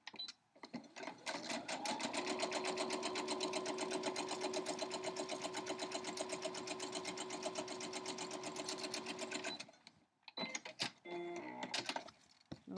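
A sewing machine stitches fabric in a steady, rapid mechanical run for several seconds, close and clear, then pauses and starts again briefly in short bursts.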